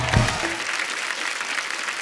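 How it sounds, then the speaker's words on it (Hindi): Audience applause at a live music show, a burst of clapping that starts loud and carries on steadily for about two seconds. "एक बार जोरदार ताली हो जाए"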